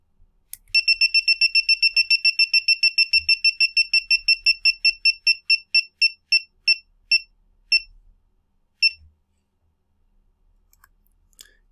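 Rapid high-pitched electronic beeps from a bouncing-ball display program written as an ECE 476 homework, starting fast and evenly spaced, then slowing steadily until the last few are widely separated before stopping.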